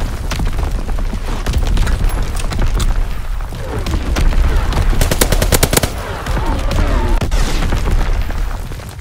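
Heavy gunfire and booming blasts in a WW2 video game battle, with rapid machine-gun-like bursts and dense impacts rolling continuously and loud throughout, bunching into a sharp flurry midway.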